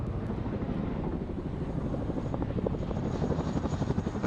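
An RAF Chinook twin-rotor helicopter's steady, heavy rotor thrum and engine roar fills the whole stretch at an airshow, continuous and fairly close, with no voices.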